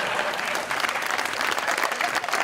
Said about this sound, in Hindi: That's a sixer. तालियां।